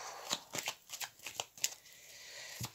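Tarot cards are shuffled close up for a reading in a quick series of soft riffling flicks and taps, quiet and alone without speech.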